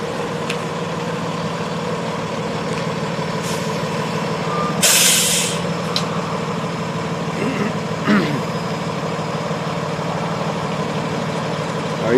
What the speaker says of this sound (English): there's a tow truck coming right here